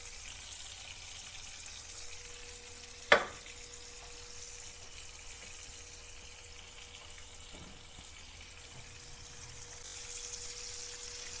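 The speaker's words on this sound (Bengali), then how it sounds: "আমি তাহলে হালকা আঁচে ভেজে নিচ্ছি" Prawns lightly frying in a pan over low heat for a prawn malai curry, a faint steady sizzle throughout with one sharp clack near the start.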